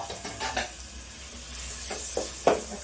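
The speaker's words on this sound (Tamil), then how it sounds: "இதுலேயே நம்ம இந்த தக்காளியை சேர்த்துக்கலாங்க" Tomatoes go into a pan of sizzling ginger garlic masala, and a steady, close frying hiss is broken by a few sharp stirring scrapes near the end.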